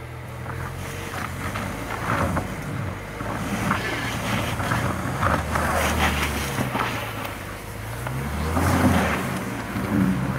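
A Volvo XC40 climbs a steep snowy hill, its engine droning and surging unevenly amid crunching, scrabbling tire noise and gusts of wind buffeting the microphone.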